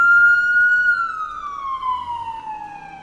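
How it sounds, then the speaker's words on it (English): A loud electronic siren effect plays alone, holding one pitch before sliding slowly downward in a smooth wail. "Give me the sirens"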